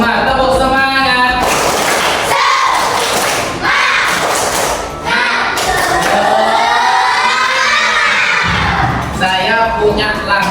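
Classroom audience in a teacher-training session doing a rhythmic spirit clap with cheering and shouts, loud and close, with thuds and voices mixed throughout.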